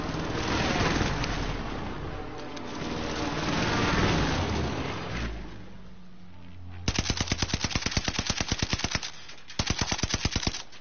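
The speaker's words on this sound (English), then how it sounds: "Allied precision airstrike incoming." Rapid bursts of heavy automatic fire from an allied precision airstrike in a console shooter, two loud strafing runs following a rumbling roar of jets or engines overhead, with no voices.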